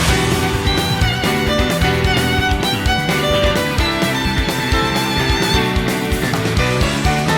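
Energetic, fast-paced battle music from Xenoblade Chronicles 3, with driving percussion and layered melodic instruments, loud and continuous throughout.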